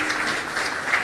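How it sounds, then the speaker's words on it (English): Audience at a Vedic prayer and yagna gathering applauding a musician, a short, even burst of many hands clapping close by. "Please give a big round of applause to him."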